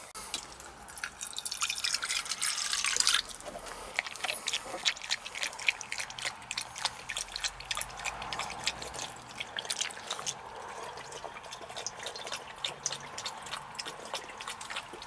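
Water from a newly installed outdoor sill faucet, splashing and dripping in irregular close drops, with a louder rushing burst at the start before settling into scattered trickles.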